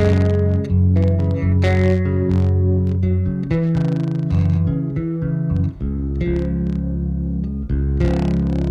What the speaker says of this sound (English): almost sounds like chorus because the slapback is so fast